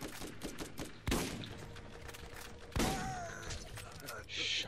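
Shotgun blasts in the video game Borderlands, two loud booming shots a couple of seconds apart over a busy game soundscape, with a voice speaking in the background.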